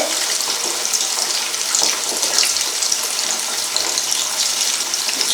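Korameenu fish pieces sizzle in a pan of oil, a continuous, bright crackle heard close and loud for several seconds without a break or any voice.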